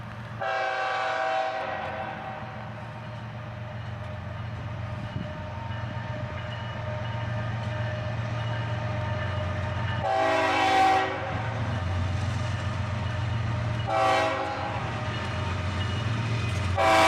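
A freight train hauled by diesel locomotives passes with a steady low engine drone and rolling rumble, while the horn sounds several times, with long blasts near the start and again later, loud and close.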